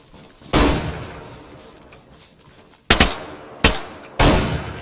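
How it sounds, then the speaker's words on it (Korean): Gunfire in the survival shooter DayZ: a sustained burst early on, then three sharp separate shots later, loud and close, with quieter game ambience between. "내가 쏘고 있는 거야."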